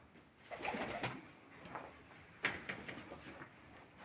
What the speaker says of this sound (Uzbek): Mana qushlar.